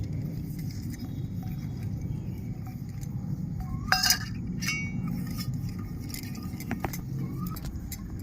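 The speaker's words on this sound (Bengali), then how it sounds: "বাটির মধ্যে আমি একটু সাদা তেল মাখিয়ে নিচ্ছি" Small steel bowls for steaming idli are greased with white oil, giving a few brief metallic clinks, clearest around the middle, over a steady low background hum.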